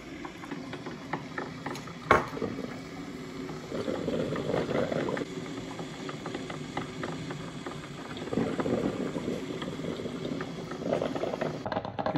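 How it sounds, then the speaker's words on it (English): Steady bubbling and gurgling of water boiling in an old Norelco percolator coffee maker, with soft hissing throughout and louder surging bursts partway through. "it seems to be essentially boiling."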